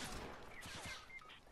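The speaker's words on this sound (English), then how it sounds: "No, the guy started shooting at him" A quick burst of rapid gunfire in the Fortnite video game, faint and somewhat distant, with several shots clustered in the first second.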